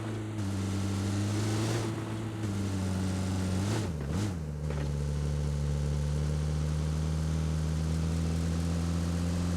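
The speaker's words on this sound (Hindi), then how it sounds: "अब दोबारा यहाँ से गाड़ी उठा के चलते हैं आगे रश करने फटाफट।" Vehicle engine in PUBG mobile shooter game: a steady, loud mid-pitched motor drone throughout, with a brief pitch dip and revving change partway as the car shifts or bumps, otherwise continuous hum.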